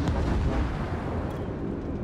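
Torpedoes strike and sink a warship in World of Warships, producing a dense, continuous low explosive rumble that stays loud throughout with no voices.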